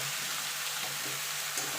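Spinach greens and fish heads stirred in a hot pan, a steady close sizzle and hiss with faint scraping from the stirring, no talking.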